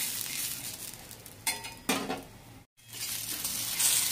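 Green chillies roasting with a dab of oil in a pan, pressed down while they cook: a continuous hiss with two sharp sizzling bursts and a brief silent gap, then the sizzle resumes.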